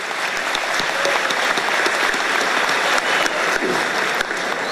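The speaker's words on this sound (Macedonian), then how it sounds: "Ве молам еден голем аплауз." Big, sustained round of applause from delegates at a youth union congress in 2013, dense and steady with many hands clapping across the hall.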